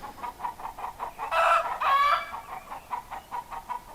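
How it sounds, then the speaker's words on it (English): Several chickens cluck loudly and repeatedly nearby in a steady rhythm, with two longer, louder squawking calls in the middle, outdoors by a cabin. "Some very loud chickens over there."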